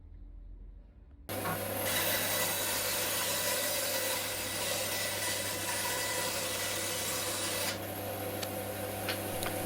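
After a brief quiet moment a band saw starts up and runs steadily cutting wood with a constant hum and rasping cut, then changes tone near the end.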